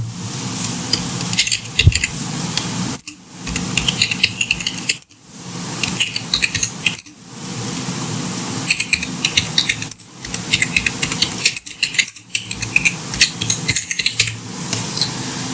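Rapid clicking of keys being typed on a keyboard, coming in bursts separated by short pauses, close and clear.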